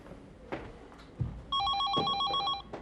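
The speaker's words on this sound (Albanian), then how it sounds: "Telefoni." A telephone bell rings in a 1998 Albanian television comedy, starting after a couple of soft knocks and trilling in a steady, repeated electronic pattern for over a second, fairly close and clear.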